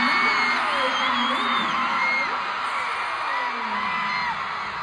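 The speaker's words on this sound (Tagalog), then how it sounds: "Grabe ang sigawan ng mga tao sa buong Araneta." A dense crowd at Araneta Coliseum during the Star Magic All Star Games 2024 screams and whoops continuously, loud and sustained, with high-pitched shrieks rising above the roar throughout.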